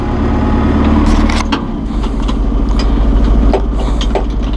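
A 2011 John Deere 5101E utility tractor engine runs loud and close with a steady low rumble, and mechanical clunks from the clutch and a shift into second gear are heard over it.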